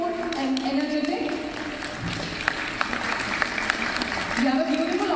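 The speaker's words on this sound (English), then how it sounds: "A huge round of applause, please." Audience applause at the Gulf Green Summit & Awards 2025 ceremony in Dubai: a steady, full wash of clapping runs throughout the clip, with a voice speaking over it.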